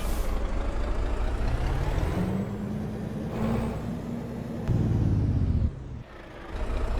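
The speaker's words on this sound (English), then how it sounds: "That engine brake though." A heavy truck's engine brake in American Truck Simulator rumbles loud and low, a continuous throaty growl that shifts in pitch, briefly drops out, then resumes, with no talking over it.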